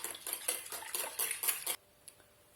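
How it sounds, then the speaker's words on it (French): Muffin batter is stirred in a bowl with a utensil in quick, rhythmic scraping strokes, about a dozen close, moderately loud passes that stop abruptly, leaving near silence with one faint tap. "On mélange bien le tout."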